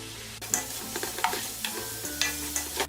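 Ingredients are tossed and mixed in a sizzling pan, with a quiet frying hiss broken by repeated scraping strokes and light knocks of the spoon at a loose, irregular pace.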